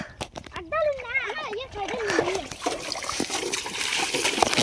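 Water spray at a bike washing service, a hissing splatter that builds and runs continuously, partly under loud speech and a voice near the start.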